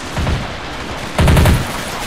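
Machine gun fire in a WW3 strategy video game battle at a US airbase: two rattling bursts of gunfire, a shorter one near the start and a louder, denser volley a second later, with no talking.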